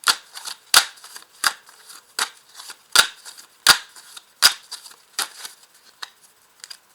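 Tarot cards are shuffled and laid down in a run of about a dozen crisp, close snapping flicks, irregularly spaced and tapering off, with no voices.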